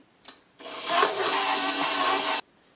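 Electric mixer beating unsalted butter for root beer float cookies: a short tap, then a close, steady whirring burst lasting about two seconds before cutting off abruptly.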